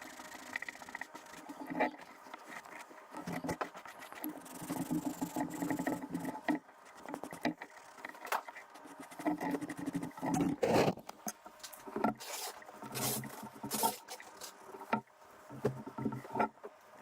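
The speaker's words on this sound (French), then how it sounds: "il faut que ce ponçage n'aille pas en profondeur et reste au niveau de la fleur du cuir" Light, quiet sanding over the leather covering of a flask, a soft scratchy rubbing in short irregular strokes close by.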